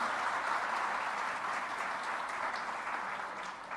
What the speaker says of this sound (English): Can we have a big round of applause for all our winners?